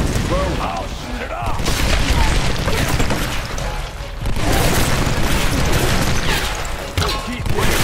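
Gunfire in Tomb Raider (2013), loud booming shots and crashing impacts packed densely over a constant roar of game effects, with a voice talking faintly underneath.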